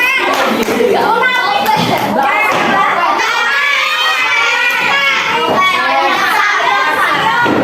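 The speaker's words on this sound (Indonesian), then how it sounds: "Tepuk tangan." Sixth-grade elementary pupils clap their hands in a classroom, a bright burst of clapping tangled with excited children's chatter and shouts, loud and close.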